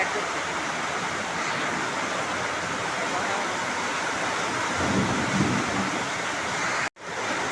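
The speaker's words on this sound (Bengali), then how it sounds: "আজকে বৃষ্টিটা সেরকম জমজমাট হচ্ছে তাই ছাদে চলে আসলাম" Heavy rain with hail pounds down steadily as heard from a rooftop, a dense, loud, continuous roar of falling water that holds unbroken until a sudden brief dropout near the end.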